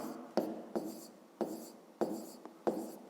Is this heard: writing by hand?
yes